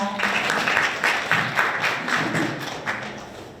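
An audience at a university innovation forum student session claps for a student presenter, a modest round of applause with a few louder nearby claps and thumps, fairly close, fading toward the end.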